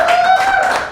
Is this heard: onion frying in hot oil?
no